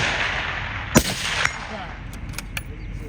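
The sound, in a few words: rifle gunshot at a precision rifle match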